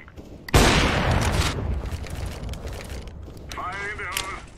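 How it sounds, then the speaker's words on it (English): A flashbang grenade bursts in CS:GO with one loud, sudden crack that decays into a long hiss, followed later by a voice speaking over the fading noise. "Throwing flashbang."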